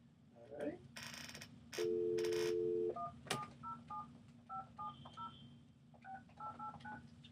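Short two-tone keypad dialing beeps from a telephone, tapped out in quick irregular bursts after a long steady tone, with room noise and brief talk in the background.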